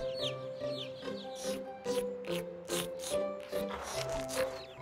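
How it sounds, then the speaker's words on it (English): Baby birds calling from a nest in a backyard, with repeated short high-pitched chirps and cheeps in quick irregular bursts, fairly close and moderately loud over a faint background. "We have little baby birds right here in our own backyard."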